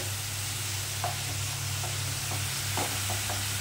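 Spices are stir-fried in a pan for a stuffed pointed gourd curry, giving a soft, continuous sizzle with a few faint scrapes of stirring over a low steady hum.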